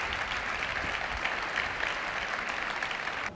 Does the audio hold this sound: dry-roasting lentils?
no